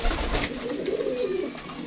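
Pigeons coo close by, a low, throaty warbling rising and falling against a steady background hiss.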